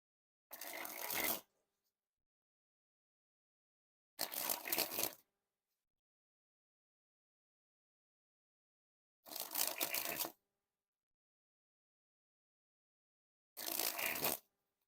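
Theory11 Stranger Things playing cards being sprung from hand to hand, four separate bursts of rapid fluttering riffles about a second each, separated by quiet pauses, close and clear.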